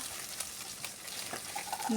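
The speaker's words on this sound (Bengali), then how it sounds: "এখানে একটা ডিম দিয়ে দিয়েছি, ডিমটা সুন্দর করে ভেজে নিব" An egg frying in butter in a pan gives a steady, close sizzle and hiss that stays even throughout, with no voices.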